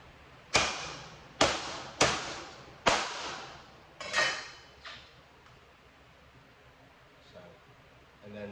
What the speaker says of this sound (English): I just take the meat cleaver